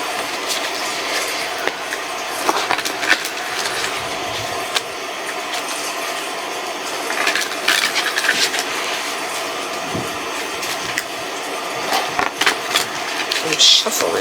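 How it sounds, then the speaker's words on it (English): Tarot card decks being shuffled up close, a steady papery riffling and rustling with scattered sharp clicks and flicks that runs through the whole stretch. "I'm shuffling first before we head to this"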